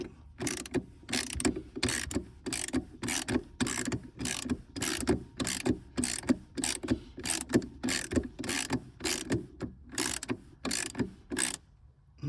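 Ratchet tightening a car battery terminal on a Chevy Traverse, clicking close and loud in quick regular strokes with brief pauses, alone without talk.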